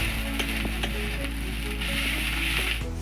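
Ginger paste frying with onions in a hot pan, a steady close sizzle with faint crackles throughout, thinning out near the end.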